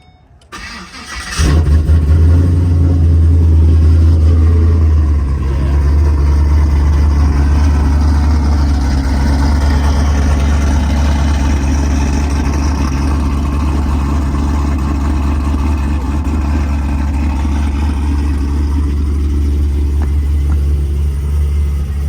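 A cammed Pontiac G8 V8 cranks and fires loudly, then settles into a deep, steady idle that holds for the rest of the stretch, close to the microphone with no talking.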